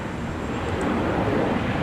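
An airliner rolls for takeoff on runway 17 at Minneapolis–St. Paul Airport, a steady broad engine roar holding at an even, fairly loud level throughout, with a faint high whine above it.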